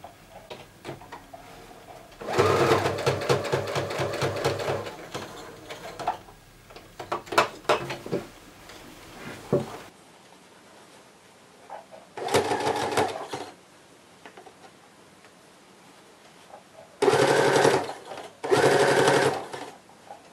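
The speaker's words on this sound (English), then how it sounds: "Always be careful and check what's underneath when you're sewing this." A sewing machine runs in bursts while stitching a seam on a kachera, a long loud run at first, then several short separate runs with quiet pauses between them.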